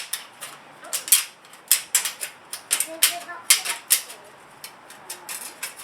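Leaf gutter guard being cut to length with snips, a quick series of sharp metallic snipping clicks in an irregular rhythm, close and fairly loud over a quiet background.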